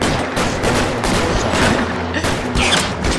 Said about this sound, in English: Just walk right up to him and shoot him.